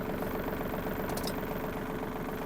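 A Yanmar RS-24 Japanese mini tractor engine idles low and steady while turning at reduced speed, a faint continuous mechanical chugging with a brief higher click midway.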